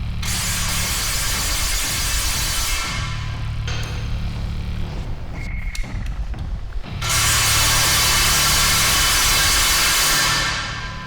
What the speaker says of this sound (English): Another try, and the engine still wouldn't fire.